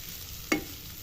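Sliced onions going into a pan of fried garlic, making a short stirring scrape over a steady low sizzle of frying, close and alone.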